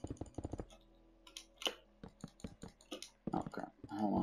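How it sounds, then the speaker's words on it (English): A loud computer keyboard typed on in quick bursts of clicky keystrokes, close and fairly quiet overall, with short pauses between runs. "Sorry about my loud keyboard, guys."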